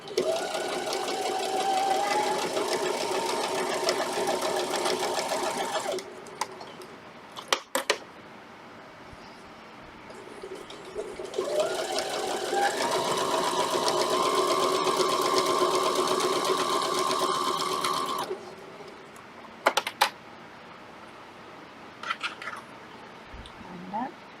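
A sewing machine stitches a quilt with printed panels, running in two long steady whirring stretches separated by a pause, close and loud, with a few clicks between runs.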